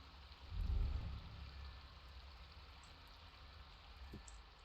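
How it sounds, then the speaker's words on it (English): Flowing water ambience in the video game EverQuest 2, a steady soft rush of water with a brief louder low swell near the start, then a quiet continuous wash. "You hear the water already."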